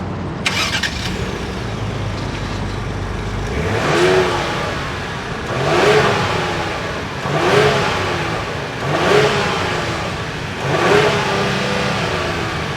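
A 2025 Lincoln Aviator with quad exhaust idles, then revs five times in an even rhythm, each swell rising and falling back to idle, heard close and alone.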